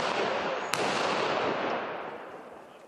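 Bomb-disposal sappers in Ukraine carry out a controlled detonation of a seized rocket-propelled assault grenade: a sharp, loud blast that rolls into a long rumbling decay fading over a few seconds, heard at a distance outdoors.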